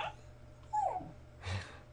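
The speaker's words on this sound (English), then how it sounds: "that would be our puppy yawning" A puppy that has just woken up gives a yawn, a brief squeaky whine sliding downward, then a soft breathy exhale, heard close against low background hum.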